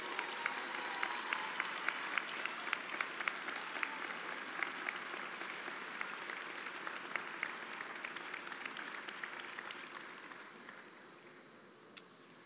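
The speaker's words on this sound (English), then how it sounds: "Graduates, let's applaud them," Audience applause fills a hall at a Bowling Green State University summer commencement, a sustained wash of many hands clapping at moderate distance that gradually fades out near the end.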